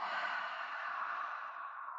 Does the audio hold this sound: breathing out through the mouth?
yes